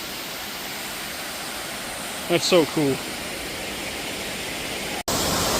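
Waterfall at Raven Cliffs near Helen, Georgia, pouring into a swim hole below; a steady, loud rushing roar fills the whole stretch while a person speaks briefly over it.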